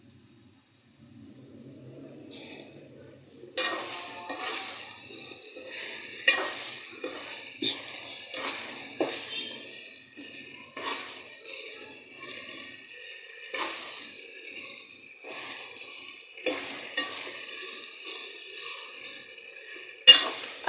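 Potatoes and aubergine fry in a pan for an aloo baingan dish, with a steady close sizzle running throughout and repeated scraping clatters from stirring at irregular intervals, with no talk.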